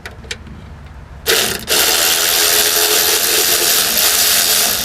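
A cheap ratchet wrench clicks briskly while working on an engine timing cover, quiet ticks at first, then a loud, steady run of dense ratcheting close up.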